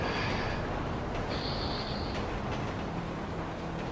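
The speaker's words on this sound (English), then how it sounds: "subway or train or something going by." A subway or train rumbles past close by, a loud continuous low roar with faint high squeals from the rails, steady for the whole stretch.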